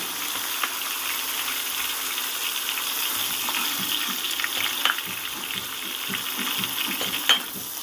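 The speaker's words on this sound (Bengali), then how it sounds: "খুব সুন্দর করে বেগুনগুলো ভেজে নিচ্ছে দেখুন" Brinjal slices fry in hot oil in a pan, giving a soft, continuous sizzle with small crackles and occasional pops, heard alone at moderate volume.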